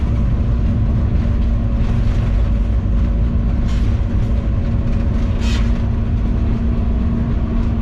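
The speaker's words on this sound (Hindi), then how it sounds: "ये अब ट्रेन जो है लूप लाइन पर आगे बढ़ रही है" Pakistan Express train rolling along a loop line at a junction station in Sindh, a steady low rumble and drone of wheels and carriage with occasional faint squeals, continuous and close throughout.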